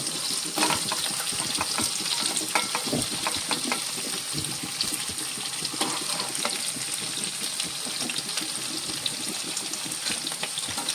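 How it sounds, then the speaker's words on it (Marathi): Chopped vegetables, pumpkin among them, tumble into a hot pan of softened onion and tomato for sambar, bringing a continuous loud sizzle and crackle with scattered stirring clicks and no voices. "आता त्याच्यावरती आपण घालतो या आपण चिरून ठेवलेल्या भाज्या"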